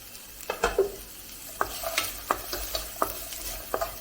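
Sliced shallots, onion and garlic sauté quietly in a pan for chicken curry, with a soft sizzle beneath a series of distinct spoon-scraping stirs at irregular intervals.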